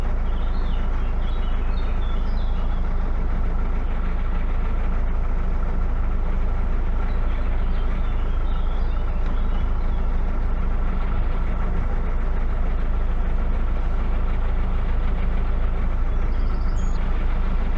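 A narrowboat engine idles on tick over, low and steady throughout, approaching a lock at Curdworth, a constant throbbing rumble with no talking.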